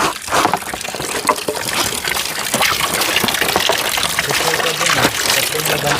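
Spring water gushing and splashing steadily into a large basin at an outdoor spring where people do laundry and bathe, a continuous loud rush with voices talking over it.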